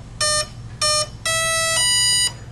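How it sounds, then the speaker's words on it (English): An electronic speed controller sounds its arming tones after a 3-cell lithium-polymer battery is plugged in: three short, loud, clear beeps, then a longer low tone that steps up into a higher one. "3 beeps to indicate that it recognizes the 3-cell li-poly battery, then low-high to indicate that it's armed and ready to go"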